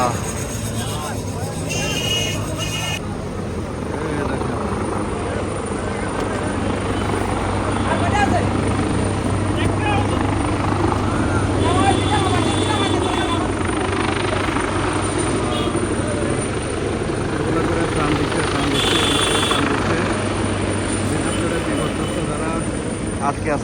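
Helicopter rotor and engine drone continuously throughout, steady and fairly loud, over the flooded town of Feni during rescue work, with people talking faintly beneath it.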